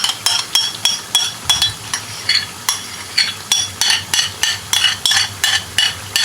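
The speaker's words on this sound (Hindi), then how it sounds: "मिक्स करने के बाद हम इसमें अपना योगर्ट ऐड कर लेते हैं।" Yogurt is stirred into chicken masala for Sindhi biryani in a pot on a high flame. A spoon scrapes the pot in a steady, rhythmic pattern over a low sizzle, close up and without voices.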